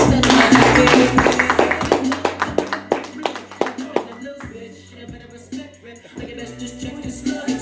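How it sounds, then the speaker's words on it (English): A comedy club audience applauds as comedian Lynn Emmons is brought on stage, a loud burst of clapping that thins into scattered, separate claps and fades over several seconds. "Ladies and gentlemen, please give it up for Lynn Emmons"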